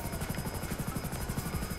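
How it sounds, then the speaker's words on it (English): A police helicopter in GTA 5 Online, steady rapid rotor chopping with a droning buzz, moderately quiet and continuous throughout. "helicopter. Let's avoid him."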